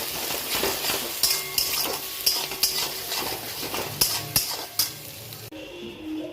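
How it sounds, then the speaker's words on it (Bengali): Five eggs frying in hot oil in a pan for egg fried rice, a loud steady sizzle broken by repeated clinks and scrapes of a spatula against the pan, with no talk. "5টা ডিম ভেজে নিচ্ছি।"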